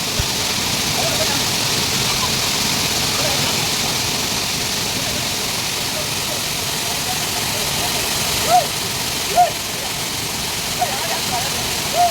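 The waterfall at Seethampeta gives off a steady, even rushing roar that fills the whole stretch at moderate level, with a few brief sharper knocks near the end.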